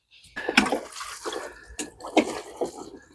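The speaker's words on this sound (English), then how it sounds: "And then just give them another little water." Water poured over freshly planted pots in a garden in November, a few short splashing bursts and gurgles close by, separated by brief pauses.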